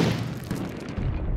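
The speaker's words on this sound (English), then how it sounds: "Oh my God, they are dumping those mortars. Holy shit, right on us." Mortar rounds exploding close by in the video game Six Days in Fallujah, producing continuous heavy booming rumble with dense low-end blasts over the whole moment, no talk.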